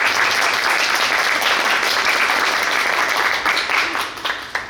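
Loud, sustained applause from a fan meeting audience for a visiting actress, many hands clapping steadily and densely before thinning out near the end.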